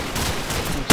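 Loud burst of gunfire from Call of Duty 4: Modern Warfare multiplayer, a dense crackle of shots that swells into a sharp, heavier blast near the end, with no talk over it.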